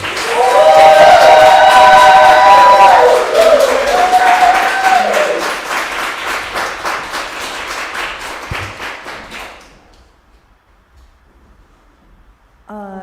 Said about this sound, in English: Please clap all the way up to the stage, Cypress.